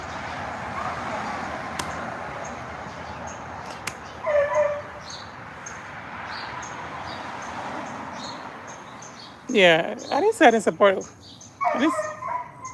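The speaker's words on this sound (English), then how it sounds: "what are you doing to that dog for that dog to be crying like that?" A dog whimpers and yips in high, wavering cries, first faintly and then in louder bursts near the end, mixed with a person talking over a steady background hiss.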